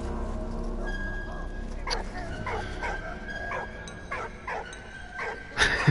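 A dog in the video game Valiant Hearts: The Great War gives a series of short yips and barks over a low game backdrop. The barks are spaced irregularly, with a louder one near the end.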